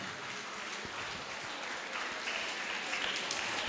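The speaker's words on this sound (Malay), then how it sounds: "Berikan tepukan bagi anak-anak SMK Kerubung bagi persembahan itu tadi" An audience at the launch ceremony of the Havoc STEM 2023 event applauds students of SMK Kerubung after their performance. The clapping is fairly faint and distant, sustained, and swells slightly toward the end.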